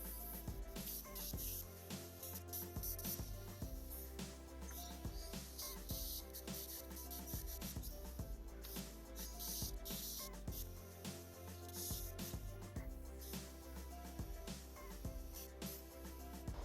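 An airbrush sprays a light dusting of paint over a skull to build a grainy bone texture, a continuous soft hiss held at an even level throughout.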